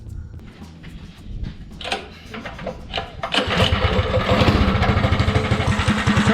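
A small fuel-injected mini bike engine cranks with a few uneven tries, then catches and settles into a loud, close, steady putter of idling.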